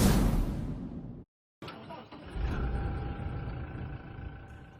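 Engine of an automatic Toyota Fortuner revving up after a brief cutout, a steady motor drone building and holding close by, with faint voices in the background.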